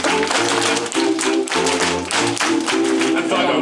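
A cruise ship lounge audience claps in sharp unison along to a live piano singalong, rhythmic group claps landing in bursts over the piano and voices, close and loud throughout.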